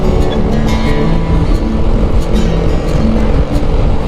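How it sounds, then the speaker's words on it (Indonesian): A green intercity bus travels behind a Honda Vario scooter on Java's Pantura road, lost in a loud, steady roar of engine and wind noise with faint rhythmic thumps, no talking. "Waduh, ada bis."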